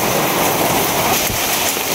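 Steady rain falls heavily onto a surface next to a veranda, a dense, continuous hiss and patter that stays loud and unbroken throughout, with no voices.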